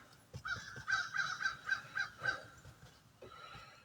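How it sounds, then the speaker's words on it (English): Crows perched in trees nearby caw in a quick run of about seven harsh, evenly spaced calls, fairly close and clear, followed by a fainter call after a short pause. "them old crows over there in the trees are talking to us this morning"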